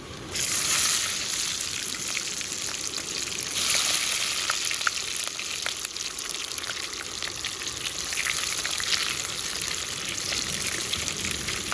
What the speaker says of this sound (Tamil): அப்படியே நம்ம உரித்து வச்ச சின்ன வெங்காயத்தை சேர்த்துருவோம்